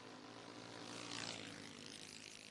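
Small RC model airplane engines in a No-Box 660 race, a distant, thin propeller whine that swells and eases as the throttle is worked, with no voices.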